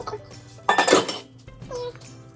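Utensil scraping and clinking against a bowl while scooping out the last of a tuna sushi mix for baked sushi, a short burst of dish clatter in the middle with quieter taps around it.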